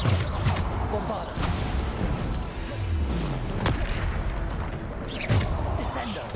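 Bombarda blasting-spell explosions in the video game Hogwarts Legacy hit as several sharp booms amid busy spell-combat clatter, while a person talks over the action.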